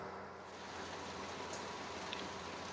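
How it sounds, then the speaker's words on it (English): Steady rain falling outdoors at night, a dense, even hiss of drops on surfaces with no breaks, fairly faint and continuous throughout. "The rain has started."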